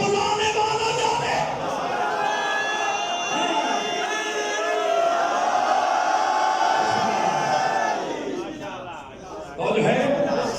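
A crowd at a religious majlis at an imambargah in Hangu raises a loud, sustained collective chant that swells and holds for several seconds, with a brief dip near the end before voices surge again.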